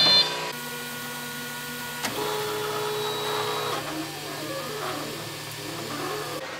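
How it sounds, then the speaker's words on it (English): A 3D printer runs with steady stepper-motor whines and shifting tonal pitches, moderately close and continuous, with a brief click near the start. "We have to wait for the 3D printing anyway"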